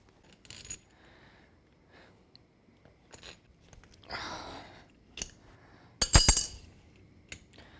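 A hand wrench works on a sway bar bolt on a Jeep Rubicon. Sparse metallic clicks and clinks ring out, with a brief scraping rasp midway and a sharp cluster of metal clatter near the end.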